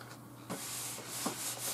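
A hand smooths a ScanNCut cutting mat, making soft, quiet rubbing swipes in a few faint strokes against a low hum.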